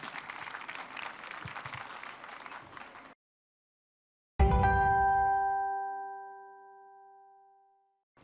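A French TV studio audience applauds the guests for about three seconds, the clapping stops abruptly, and after a short silence a bright ringing chime sounds and slowly decays.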